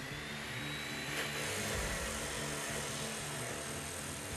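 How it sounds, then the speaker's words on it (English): An abrasive chop saw with a 14-inch, 1/8-inch-wide blade grinds through forged steel spikes, a loud, steady, dense whine and roar that holds without a break from start to finish. "I bring them over to the chop saw and cut them to length."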